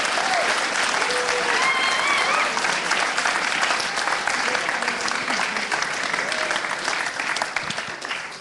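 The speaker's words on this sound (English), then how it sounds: "Round of applause, guys." A large audience at an animation conference presentation applauds steadily and loudly, the clapping holding strong throughout and easing slightly at the very end.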